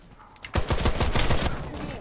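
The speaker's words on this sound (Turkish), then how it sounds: "Otomatik bir tüfek haline getirmişler ifini." An HCAR automatic rifle fires in the video game Warface, a rapid burst of about eight sharp close shots lasting roughly one second, preceded by faint handling noise and followed by a short tail.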